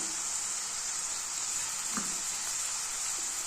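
Tomatoes frying in a pan with turmeric and salt, a soft, even sizzle that stays constant throughout, with one small clink of a utensil partway through.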